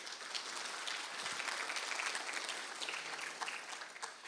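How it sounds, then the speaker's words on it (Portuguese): Audience clapping for a presenter at an agricultural software users' meeting, a dense, even round of applause that swells in the middle and begins to thin toward the end, with no voices. "uma salva de palmas para o Lucas"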